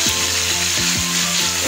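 Pork steak frying in a pan, a steady close crackling sizzle with faint scraping stirs and clinks of a utensil against the pan.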